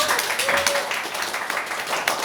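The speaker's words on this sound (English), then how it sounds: "Round of applause, please, ladies and gentlemen." Broad, steady applause from a crowd, a dense wash of clapping with a faint tonal whistle early on, continuing throughout.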